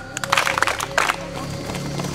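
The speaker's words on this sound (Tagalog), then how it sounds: "Tatlong palakpak at tatlong padyak." A group playing a camp game claps hands and stomps feet, with several sharp, uneven impacts close by over a low background murmur.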